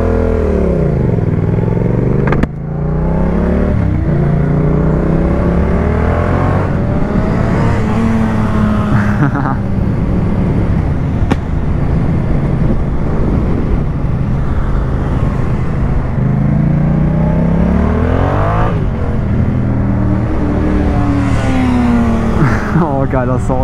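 A Yamaha MT-07 motorcycle accelerating on a road tour, its engine note climbing repeatedly through the gears, loud and close throughout with brief dips between rises.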